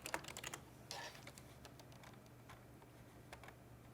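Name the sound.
typing on a computer keyboard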